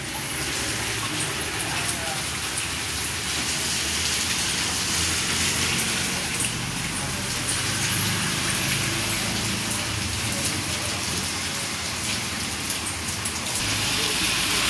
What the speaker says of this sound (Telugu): ఇంకా ఈరోజు మాత్రం నైట్ స్టార్ట్ అయ్యిందండి వర్షము